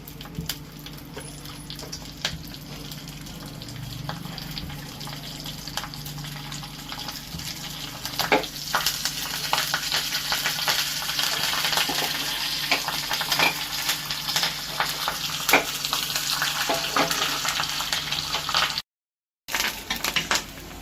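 Mustard seeds, curry leaves and dried chili fry in hot oil for a coconut chutney tempering, giving a steady close crackling sizzle with scattered pops that runs on without talk and cuts out briefly near the end.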